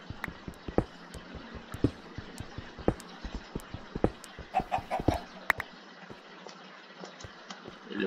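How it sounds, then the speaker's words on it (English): A chicken in the video game Minecraft clucks in scattered short bursts over several seconds alongside clicks and soft game noises, moderately quiet and close. "Hello, chicken."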